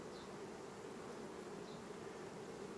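Honeybees at the hive bringing in nectar make a steady, close buzzing drone that stays even throughout, with no voices.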